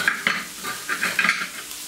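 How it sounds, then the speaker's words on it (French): Shiitake mushrooms fry in a pan for rice toasted with sesame, a steady close sizzle under several quick scrapes and stirs, with no one speaking. "nos champignons, on va les laisser encore cuire encore 2 minutes."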